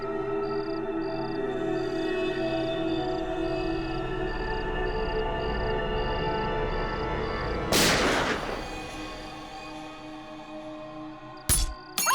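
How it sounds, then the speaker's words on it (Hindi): A single sharp gunshot cracks out over a steady background hum, followed by a fading echo and a few faint clicks. "अरे गोली चलने की आवाज आई।"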